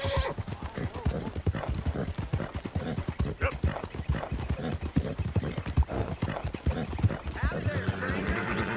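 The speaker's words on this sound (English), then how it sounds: "that's a nice looking horse you have there" Horse hooves clip-clopping in a steady, rhythmic trot in Red Dead Redemption 2, close and continuous, with a brief whinny and voices talking over the hoofbeats.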